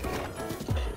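Horse in Zelda: Breath of the Wild gives a brief close neigh over soft hoof thuds, a short one-second burst with a low snort at the end.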